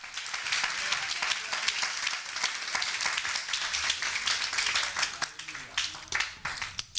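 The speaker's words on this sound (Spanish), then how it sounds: "Denle el aplauso y la gloria al Señor." Dense applause and clapping from a church congregation fill the space steadily, with voices mixed in beneath the broad noisy wash.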